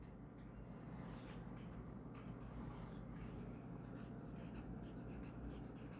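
Pen writing on paper during an accounting lesson: two quick, scratchy strokes followed by lighter, faint scribbles over a steady low background hum.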